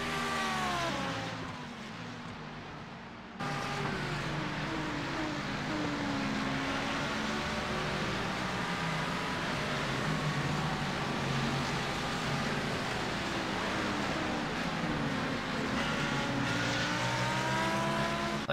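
GT3 race car engines drone continuously in a sim racing game, several cars close together with rising and falling revs through gear changes, loud and steady after a brief quieter opening.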